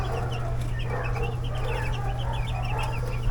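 Forty-five-day broiler chickens cluck and chirp in a soft, scattered chorus over a constant low hum, fairly near but quiet, with no talking.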